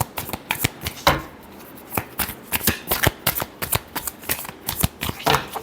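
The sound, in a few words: shuffling tarot cards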